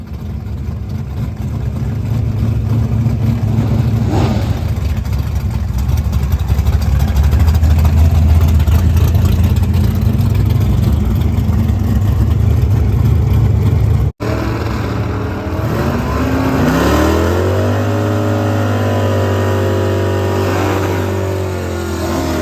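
Race car engine at launch with the launch RPM lowered, holding a loud steady drone that cuts out briefly, then revs up with climbing pitch as the car pulls away.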